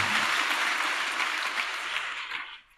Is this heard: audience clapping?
yes